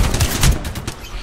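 Rapid bursts of video game gunfire in a shooter, dense and loud, with shots fired in quick succession across a short span.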